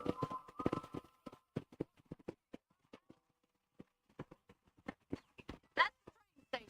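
Horse hooves clip-clopping across ground in the Red Dead Redemption western game, a run of separate hoofbeats, some close and crisp, others softer. Music plays under the steps at the start, and a few voice-like sounds come through near the end.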